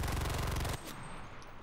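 A PPD submachine gun in a video game fires one rapid, loud burst that cuts off sharply, followed by quieter background game sound.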